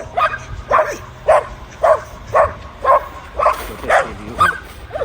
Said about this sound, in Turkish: köpek geliyor